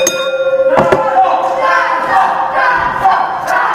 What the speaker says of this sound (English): The crowd already shouted for another dance off.